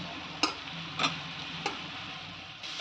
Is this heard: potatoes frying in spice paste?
yes